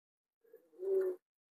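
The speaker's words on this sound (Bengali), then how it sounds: "ওটা বিবেকের পায়রাই হতে পারে" A pigeon gives one soft, close coo, warbling and rising briefly, preceded by a few faint low murmuring notes in an otherwise quiet setting.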